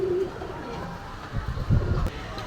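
Low, soft cooing of a pair of Kasuri pigeons close by, a few throaty coos rising toward the end over steady background noise.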